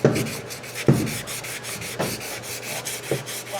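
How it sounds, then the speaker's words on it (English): Steel eye bolt twisted by hand into a wooden hull fitting through black sealant, giving dry rubbing, rasping creaks with a few sharper knocks as it turns, close and alone. "we got our eye bolt ready to go in."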